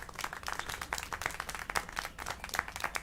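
Rapid, steady clapping from a small group rings out in the video game Syberia: The World Before, crisp close hand claps repeating for the full few seconds with no voices over them.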